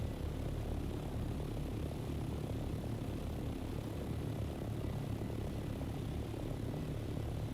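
Steady engine drone of an aircraft in flight in the video game Dune Awakening, a continuous dense low rumble that holds level throughout without pause.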